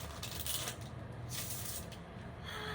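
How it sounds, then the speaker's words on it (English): Tarot cards are shuffled in quick, papery riffling bursts close by, with a steady soft rustle running underneath. "Do you want to see me shuffle?"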